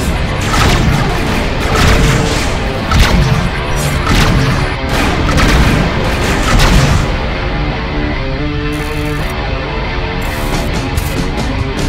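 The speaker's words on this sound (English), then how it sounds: "Missiles inbound." Incoming missiles explode in Rebel Galaxy, a loud run of heavy booms and crashing blasts in quick succession, then a rumbling tail with a few softer impacts.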